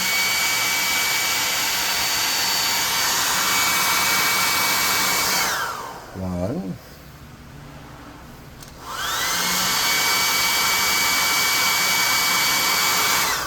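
A blow dryer dries paint on miniature mushrooms for a tabletop forest-troll craft build, a loud, steady close whirring roar that cuts off briefly midway and then starts up again. A single word is spoken during the pause.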